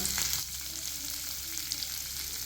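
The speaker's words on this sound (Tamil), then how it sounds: "இந்த குடமிளகாய் வெங்காயம் கொஞ்சம் வந்து வதக்கி எடுத்துக்கலாம்" Chopped capsicum and onion sauté in hot oil in a pan, giving a continuous close sizzle with faint stirring scrapes and no talking over it.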